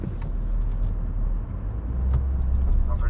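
A car rolls slowly forward, a close low engine rumble that holds fairly steady and swells slightly toward the end.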